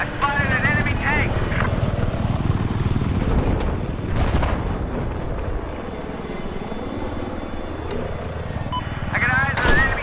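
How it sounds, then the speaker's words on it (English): An attack helicopter's rotor and engine drone steadily in the Tactical Attack Helicopter game, a dense close roar with bursts of gunfire and explosions mixed in, while radio-style voices talk over it. "I got eyes on an enemy chopper!"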